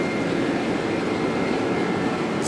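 Steady, loud roar of jet engines heard from inside an airliner cabin during takeoff, a continuous rumble with no talking.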